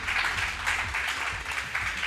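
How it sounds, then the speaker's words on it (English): Audience applause for the commentators at a Marvel Contest of Champions Summoners Fest esports event, a steady wash of clapping held at an even level for about two seconds with no talk over it. "Let's get a round of applause for all of our incredible commentators,"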